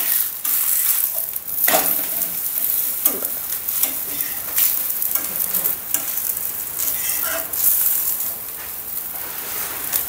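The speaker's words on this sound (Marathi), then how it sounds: "असे तेलावर थोडं थोडं भाजून घ्यायचं" Paratha pan-roasting in oil on a hot pan, a steady close sizzle and crackle with occasional scrapes and stirring clatter, running continuously with no voices.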